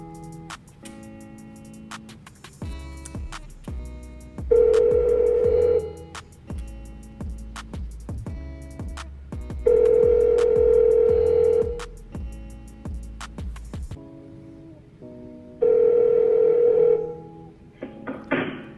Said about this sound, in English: So let's make a call out.